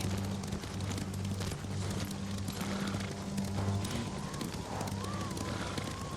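Horse hooves pound steadily in a fast gallop in the video game Ghost of Tsushima, a dense continuous drumming with a low rumble beneath it.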